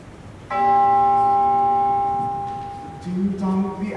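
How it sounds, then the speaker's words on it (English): A clock bell strikes the hour on a stage during A Christmas Carol, one resonant tolling stroke ringing and slowly decaying, followed by a lower, duller second tone near the end. "Ding dong, the hour itself and nothing else."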